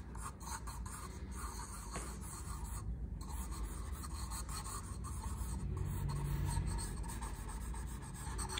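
A pencil rubbing and scratching across paper while drawing a chrysanthemum, a steady close, soft rasp of continuous strokes.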